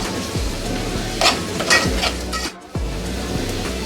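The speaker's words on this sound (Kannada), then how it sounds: "ಈರುಳ್ಳಿ ಚೆನ್ನಾಗಿ ಫ್ರೈ ಆಗಬೇಕು." Onions fry in a pan for a leafy greens side dish, with a close, constant sizzle and repeated spatula scrapes and knocks against the pan. A brief quieter gap falls partway through.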